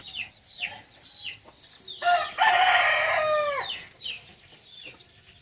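A native-breed rooster on a poultry farm lets out one long, loud crow close by, while hens cluck in short bursts before and after it.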